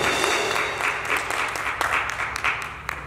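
A crowd at a prayer evening for Côte d'Ivoire in Baltimore, Maryland applauds a pastor with steady, dense clapping that stays loud throughout, with a faint voice underneath.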